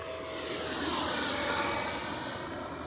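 A Freewing 80mm L-39 radio-controlled jet flies past with a steady, loud ducted-fan whine and rushing roar that swells and then eases slightly as it passes, heard alone without talk.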